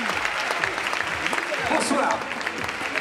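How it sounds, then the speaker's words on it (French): An audience at a Paris diploma ceremony breaks into applause, a dense steady crackle of clapping heard under a voice greeting the room. "Applaudissements, ne vous privez pas."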